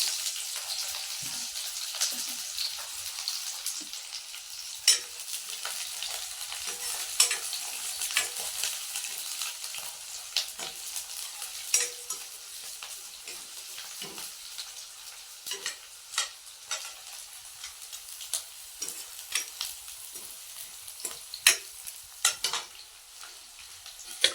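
Green chilies and green onions hit hot oil for a tempering, giving a steady, close sizzle and crackle with scattered sharp pops and occasional stirring scrapes throughout, with no talking.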